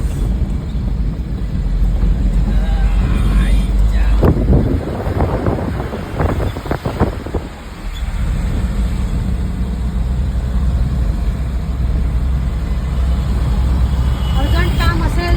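Heavy road traffic rumbles steadily on Ghodbandar Road in Thane, a continuous roar of vehicles with strong wind buffeting the microphone throughout and a brief dip in noise midway.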